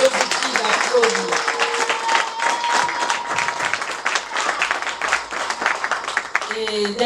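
A hall audience at a community gathering in Libreville's 5th arrondissement breaks into sustained, dense applause, a steady wash of many hands clapping at close range while a voice carries faintly through it.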